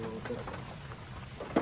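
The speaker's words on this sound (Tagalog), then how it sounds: "Ulan naman." Rain falls in a steady, soft hiss with scattered patter, moderately close, while faint voices murmur in the background.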